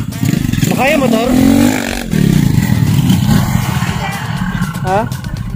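A motorcycle engine revs and labours on a climb toward a mountain peak, loud and close, rising and falling in pitch with rattling, while a voice speaks over it.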